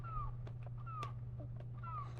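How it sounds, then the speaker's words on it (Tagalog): A small young cat meows three times in a row, each call a clear, rising-then-falling cry, close by over a steady low hum. "Hala, ito pala yung pusa ko."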